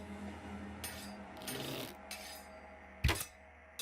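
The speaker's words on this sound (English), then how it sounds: "The bolt just bounced off." A crossbow bolt glances off its target in the adventure video game Shardlight, a quiet metallic scrape and rasp followed by one sharp, brief clack, set against a faint low ambient hum.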